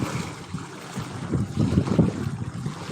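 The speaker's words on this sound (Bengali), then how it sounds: "প্রচণ্ড ঢেউ দিচ্ছে গঙ্গার জোয়ারে" Strong tidal bore waves churn on the Ganges, giving a rough, surging wash of water heard from outdoors and partly buffeted by wind across the microphone.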